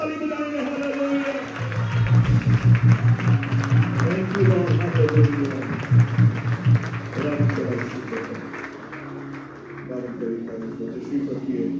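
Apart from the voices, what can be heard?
congregation clapping with joy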